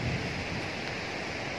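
Gundala waterfall near Dandepelli mandal in Telangana sends up a steady broadband rush of falling water, continuous and fairly loud throughout, with no voices present.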